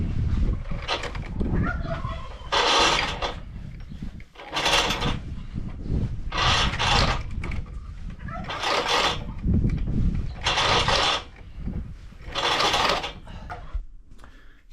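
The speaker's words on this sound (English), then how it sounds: "Put it on free spool here." Winch behind an AEV bumper on free spool, cable paying out in repeated bursts of clicking, whirring ratchet noise, close and fairly loud, with rough mechanical rattles in between.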